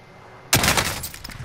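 A sudden, loud burst of gunfire in a shooter video game breaks a near-silent moment, followed by a short rattle of rapid shots and echoing reports.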